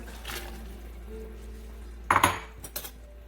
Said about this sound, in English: Then you just stir it a little bit.